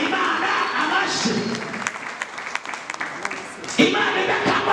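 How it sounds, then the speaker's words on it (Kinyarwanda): A church congregation bursts into applause during a prayer gathering, a dense wash of clapping that swells and thins over several seconds, with a voice calling out over it. "Bakomera Imana amashyi, bakomera Imana amashyi."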